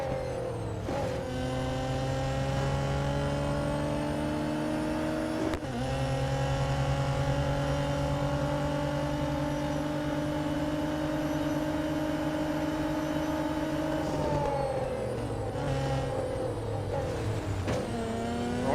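Race car engines in the Real Racing 3 video game: steady high-pitched engine drone with sharp shifts in pitch at gear changes, several cars audible at once, with no talk.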